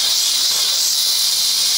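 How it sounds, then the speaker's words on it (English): A steam cleaner works on the muddy sole of a dumpster-found sneaker, giving a loud, steady, close hiss with no pauses. "the steam cleaner just wasn't doing it for me fast enough"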